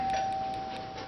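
A doorbell sounds indoors, a single sustained electronic chime tone that rings steadily and slowly fades over about a second, with no talking.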